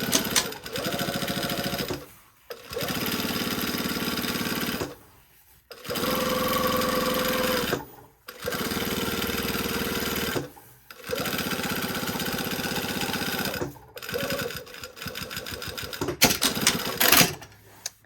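Sewing machine running in several sustained bursts of rapid stitching on a garment collar, separated by short pauses, close and clear with no talk.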